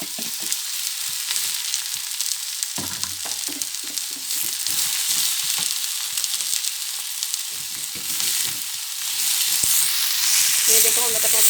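Shredded cabbage stir-fries in a hot pan with potatoes for a Sri Lankan cabbage tempering, a continuous close sizzle with intermittent scraping stirs, growing louder near the end.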